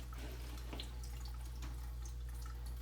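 Water drips and trickles while an ankle splint is being wetted in a clinic, a few soft irregular drops and splashes over a steady low hum, close and fairly quiet.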